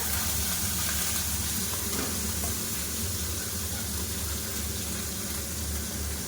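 Small morolla fish coated in turmeric fry in hot oil, giving off a loud, dense, steady sizzle that fills the whole stretch without pause, close to the pan, with no talking.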